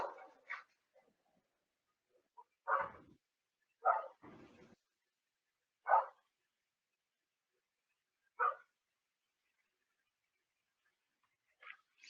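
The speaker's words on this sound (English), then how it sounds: "The people across the street from me are moving and the dog was barking." A dog across the street lets out scattered barks and yips, heard at a distance in short separate bursts with long quiet gaps between them.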